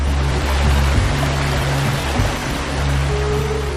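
A clear-water stream flows steadily between two hills in a radio drama sound effect, a continuous loud rushing wash with a low steady hum underneath and no voices.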